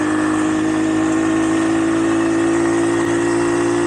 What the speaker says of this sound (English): I don't know if you can hear me over the engine, but she purrs.